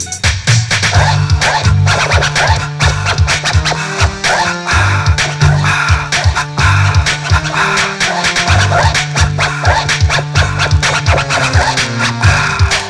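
Someone scratches a record on a turntable over a thumping electro funk hip-hop track, with rapid rhythmic scratch bursts cutting through the loud beat throughout.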